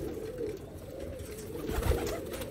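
Pure Sialkoti rooftop pigeons coo softly in low, murmuring calls against a faint steady background.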